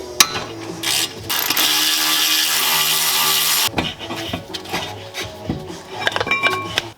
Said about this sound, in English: I've got to get into the habit of not using my only decent ratchet here as a breaker bar